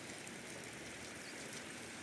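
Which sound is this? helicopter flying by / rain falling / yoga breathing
rain falling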